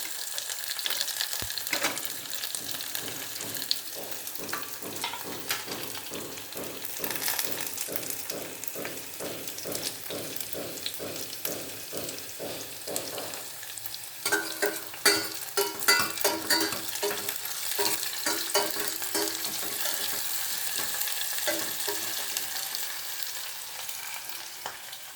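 Horse gram dry-roasting in a pan while being stirred, a soft steady sizzle broken by a long run of regular scraping strokes, then busier clattering and rattling of the grains in the second half.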